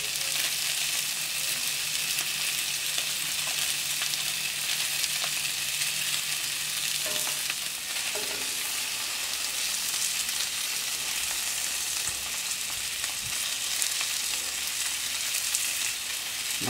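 Meagre fish cooks gently on a hot plancha, giving a steady, close sizzle with faint crackles and an occasional soft stir or scrape, continuous throughout with no talking.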